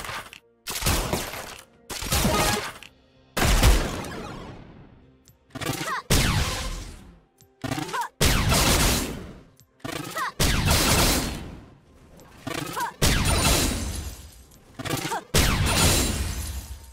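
Arcade Caitlyn skin shots in League of Legends, a run of loud, sharp blasts repeating in bursts about every second or two with brief crackling tails, close and dominant with no voice over them.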